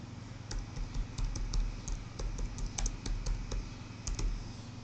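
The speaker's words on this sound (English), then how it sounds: "so I'm going to type that in." Fingers typing a search term on a computer keyboard, a quick, fairly quiet run of close key clicks over a low steady background hum.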